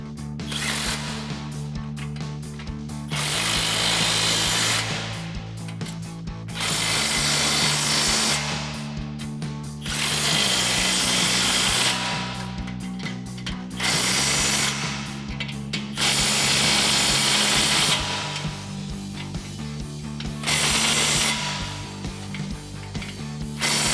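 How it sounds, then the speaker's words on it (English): An impact wrench with a 22mm socket drives lift block bolts on a Ford F-150 rear suspension, sounding in several loud, sustained rattling bursts separated by short quieter gaps, close up. "we can come back and tighten everything down with our 22mm socket on our impact"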